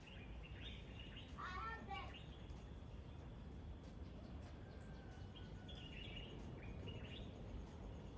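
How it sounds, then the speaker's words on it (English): Birds chirp and sing faintly in the distance outdoors in The Gambia, a brief cluster of calls early on and scattered quieter tweets over a soft, steady background hiss. "let me let y'all listen to the bird songs now"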